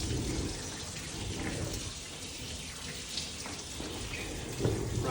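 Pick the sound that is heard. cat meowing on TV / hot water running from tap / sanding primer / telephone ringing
hot water running from tap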